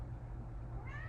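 A cat gives a single short meow near the end, faint against a steady low background hum.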